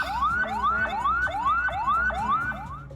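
A recorded ambulance siren played back, a loud repeating rising wail sweeping upward roughly every 0.4 seconds, steady and close with no talk over it.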